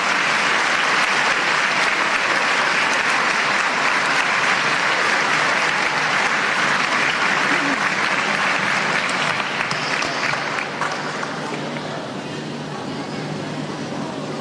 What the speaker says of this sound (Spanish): les doy un fuerte aplauso de bienvenida a ustedes